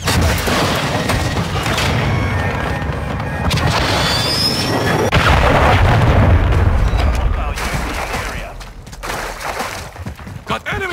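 Artillery fire-mission explosions in the Modern Warfare 3 hardcore multiplayer shooter game, a continuous barrage of loud booms and rumbling blasts with crackling gunfire, voices shouting in the chaos.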